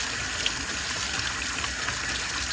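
Warm water runs steadily from a tap into a basin while a handbag is being cleaned, a constant close hiss and splash with no pauses or speech.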